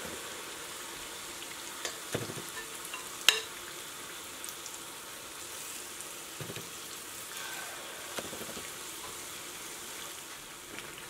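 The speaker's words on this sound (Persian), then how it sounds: "سعی کنید روغن رو روی لگیمات ها به این صورت با قاشق بریزید، اینطوری یک بخشی از روی هم سرخ میشه" Luqaimat dough balls deep-fry in hot oil with a steady fine sizzle, close by, while a spoon ladles oil over them, adding occasional clinks and splashes.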